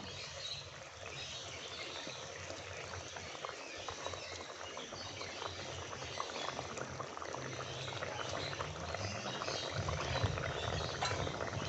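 Tilapia curry gravy coming to a boil in a pan, a dense continuous bubbling and spluttering hiss that holds steady and grows slightly fuller, with no voices.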